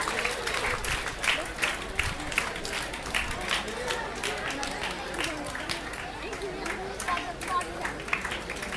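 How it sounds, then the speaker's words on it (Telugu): Audience at a school and college merit award ceremony claps steadily, a dense crowd applause with a murmur of voices running underneath throughout. "చప్పట్లు కొట్టాలి."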